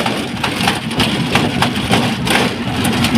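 Ride in a toto e-rickshaw crossing a river bridge: a loud, steady motor drone with rattling and knocking from the jerking body, close throughout, with no voices.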